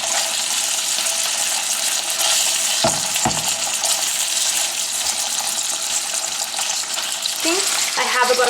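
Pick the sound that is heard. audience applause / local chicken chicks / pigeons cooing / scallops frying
scallops frying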